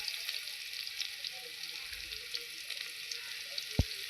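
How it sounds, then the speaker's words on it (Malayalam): Chopped shallots sizzle steadily in a hot pan of oil for a puli rasam, making a continuous close frying hiss with a brief thump near the end. "ഇനി അതിലോട്ട് അരിഞ്ഞ് വെച്ചിരിക്കുന്ന കൊച്ചുള്ളിയാണ് ഇടുന്നത്"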